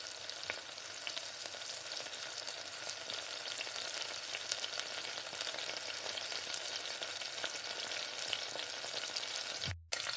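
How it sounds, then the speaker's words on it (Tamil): Spices, biryani masala and thick curd fry vigorously in oil in a loud, dense, unbroken sizzle with faint stirring, close up and without speech, cutting off abruptly at the end. "இதை இது கூட சேர்த்து அதையும் நல்லா வதக்கிக்கோங்க"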